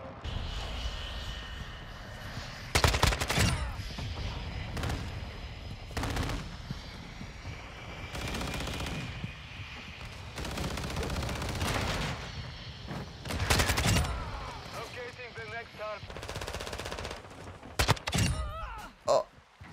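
Bursts of Kastov-74U (AK74U) automatic rifle fire in Modern Warfare 2, several loud rapid volleys separated by gaps, with game ambience and occasional aircraft-like drone between shots.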